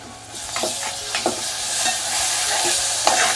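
Goda masala sizzles in a hot pan and gets stirred, with scraping strokes breaking through a continuous frying hiss; no voices.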